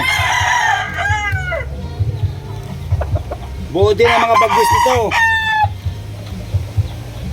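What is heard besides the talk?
gamecock rooster crowing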